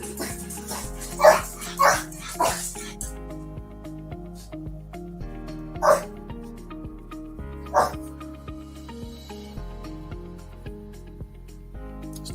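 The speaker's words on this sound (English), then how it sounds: "My dogs are barking, acting up." Dogs bark indoors in a handful of separate loud bursts spread across the stretch, over steady background music.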